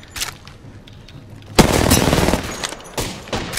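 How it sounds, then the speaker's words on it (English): Bursts of video game gunfire from being shot at during a sparring match, a quiet crackle early on, then a loud dense volley from the middle onward with sharp repeated shots near the end. "Being shot at."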